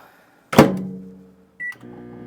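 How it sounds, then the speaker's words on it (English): A microwave oven starts up while heating smoked salmon dip ingredients: a loud thunk and hum that fades, then a short beep followed by a steady low running drone, heard close with no voices. "while heating this up in the microwave"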